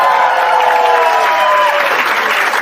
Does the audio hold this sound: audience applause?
yes